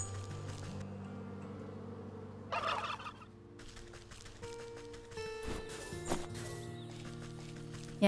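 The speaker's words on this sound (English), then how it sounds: "Yeah, gobble at me all you want, turkeys." Turkeys gobble in the video game Wytchwood, with a couple of short bursts of gobbling rising over sustained, quiet game music tones.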